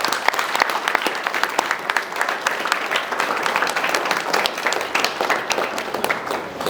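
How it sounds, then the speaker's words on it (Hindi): An audience at an academy's results celebration for JEE Main students claps loudly and continuously, a thick crowd of hands with sharp individual claps standing out. "मैं चाहूँगा सभी हम इन बच्चों का जोरदार तालियों से अभिवादन करें।"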